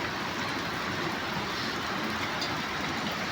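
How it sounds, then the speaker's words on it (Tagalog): Heavy rain pours down steadily in Palasan, a dense, unbroken wash of noise at even loudness throughout, close around the listener, with no voices. "Ang lakas ng ulan."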